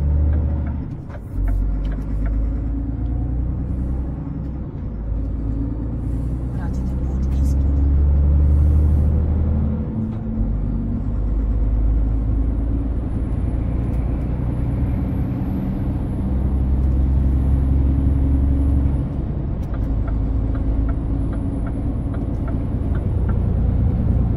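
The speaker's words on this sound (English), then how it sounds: "Gledajte kamiona i prikolice, gledajte." Trucks with trailers rolling past on a road, a heavy low rumble that swells and fades as vehicles go by, with engine drone and a faint high whine.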